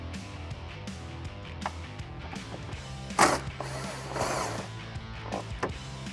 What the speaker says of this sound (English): we're going to be removing these 4 bolts right here, and you can use a 1/2-inch socket to do that.